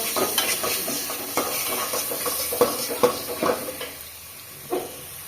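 Meat and spices sizzle and fry in a pan while a utensil stirs and scrapes in irregular strokes, steady and close throughout.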